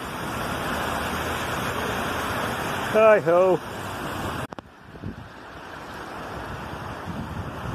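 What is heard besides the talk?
swollen river rushing during Storm Eunice in Sheffield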